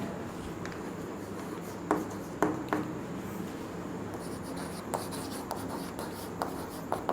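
Chalk or marker scratches across a board during a Class 12 physics lesson on mutual inductance, faint rubbing strokes with a few sharper taps, steady and close with no talking.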